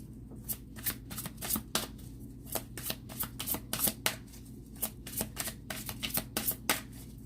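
Colorful Mystic Mondays tarot deck being shuffled and drawn, a quick irregular series of crisp card riffles and slaps, close and clear over a quiet room.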